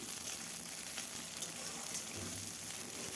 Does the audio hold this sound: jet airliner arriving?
no